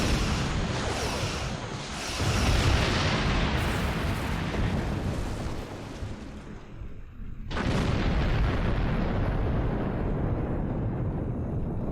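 Starship weapons firing a full spread in the Star Trek Online space combat game: loud, sustained blasts and booming explosions that fill the sound, dip briefly, then surge back with a sharp new burst.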